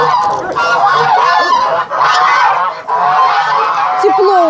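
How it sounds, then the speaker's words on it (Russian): Geese in a farmyard pen honk loudly and steadily at close range, their overlapping calls filling the whole stretch, with faint background noise from the yard. "У гусей, что там у нас у гусей?"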